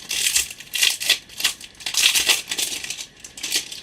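A scrapbooking parcel is torn open by hand, crisp crinkling and rustling of paper and plastic packaging in bursts close by, with no one speaking.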